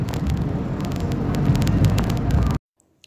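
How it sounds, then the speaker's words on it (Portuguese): A heavy truck rumbles along the road ahead, a loud continuous low engine drone with passing whir that cuts off abruptly near the end. "Um caminhão pesado lá na frente."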